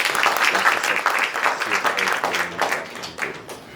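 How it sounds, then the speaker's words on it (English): Audience applause at a conference session on AI, a dense wash of many hands clapping at steady loudness from nearby, with some voices mixed in underneath. "Please a big round of applause, guys."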